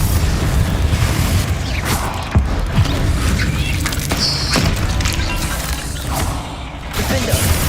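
Confringo fire-blast spells exploding during combat in the game Hogwarts Legacy, producing loud, repeated booming bursts layered over a dense bed of game effects and score.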